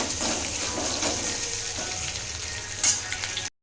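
Ginger, garlic, tomato and onion curry sizzles and crackles steadily in a hot frying pan, a continuous close fry with a brief louder hiss near the end.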